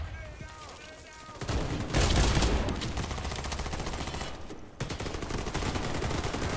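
Gunfire in the Warface video game during a bank robbery mission comes as rapid automatic bursts with short pauses, loud and dense, with brief game noise between volleys.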